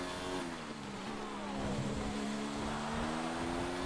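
A Formula 1 car engine in F1 2019 at the Chinese Grand Prix, a steady high-pitched whine holding near constant with slight pitch shifts, loud and continuous throughout.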